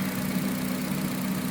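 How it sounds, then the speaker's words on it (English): A Chevy Cruze engine idles with a steady, even low hum and a faint vibration, close by with no other sounds. "engine's running"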